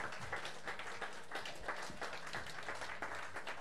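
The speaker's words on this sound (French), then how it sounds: "Can you put your hands together for the Lord today?" A church congregation applauds the Lord during a bilingual morning service, producing a continuous, moderately quiet patter of many hands clapping at a fairly even pace, with faint voices underneath.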